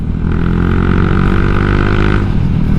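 A 2017 Honda Vario 125 eSP scooter with an AHM exhaust idles close by, its steady low engine hum holding evenly throughout with no talking.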